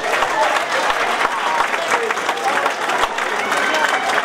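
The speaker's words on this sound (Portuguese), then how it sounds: "Era uma grande salva de palmas para eles." Audience at a Portuguese cantoria event in a club in Lowell, Massachusetts, applauding loudly and steadily throughout, a dense clapping wash from a crowd with no pauses.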